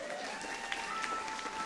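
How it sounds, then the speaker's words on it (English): An audience at a live comedy show applauds, a soft, steady wash of clapping that sounds somewhat distant and low in level. "Give Crystal a big round of applause."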